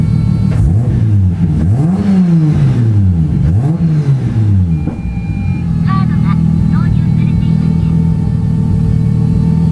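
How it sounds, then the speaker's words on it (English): A car engine at a Japanese car auction house revs up and down several times in quick swells, then settles into a steady low idle. "Let me give you guys a couple revs so you can hear it"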